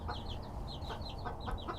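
Small frizzle Serama bantam chickens cluck softly in a quick, repeated series of short chirpy notes over a low, steady background rumble, heard close with no talk.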